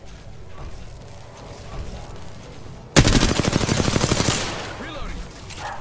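Rapid automatic gunfire in the video game Apex Legends erupts suddenly after a quieter stretch, a dense loud burst of shots lasting over a second before fading back under background game noise.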